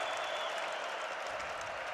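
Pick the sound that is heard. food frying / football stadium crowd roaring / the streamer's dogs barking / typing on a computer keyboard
football stadium crowd roaring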